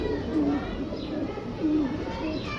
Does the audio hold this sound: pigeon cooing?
yes